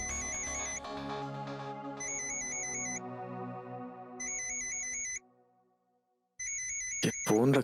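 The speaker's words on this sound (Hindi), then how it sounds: "ये फोन रख के कहां चली गई आरुषि? माँ का फोन है।" A mobile phone ringtone plays a repeating electronic melody in loud bursts, fades to near silence, then resumes, with a brief clatter near the end.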